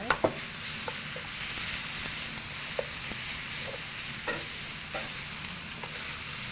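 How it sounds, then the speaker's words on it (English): Spinach tossed into zucchini and onions in a hot pan, a steady close sizzle broken by scattered scrapes and stirring clicks. "we're going to dump the whole thing of spinach into our zucchini and onions and just kind of work that in until it's heated through"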